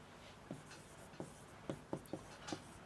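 Pen strokes on a writing surface during a chemistry lecture on reaction rates: a handful of short, soft scratches at an uneven pace, close by and quiet, with no talk.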